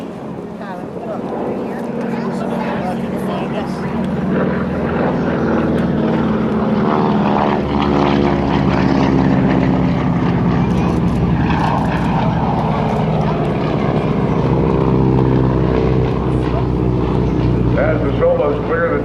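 GEICO Skytypers propeller aircraft pass in formation at an air show at NAS Patuxent River, a loud, sustained droning roar of piston engines that swells and shifts in pitch as they go by, with an announcer talking over it.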